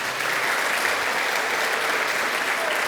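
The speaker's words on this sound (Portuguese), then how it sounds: "Uma salva de palmas para esse homem de Deus." A church congregation applauds, dense and steady clapping from many hands filling the room without a break.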